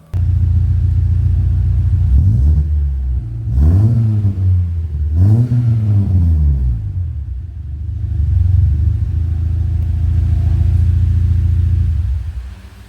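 A hot rod bubble car's engine is revved repeatedly, loud close-up blips rising and falling in pitch over a deep, rumbling idle, with a throaty exhaust note.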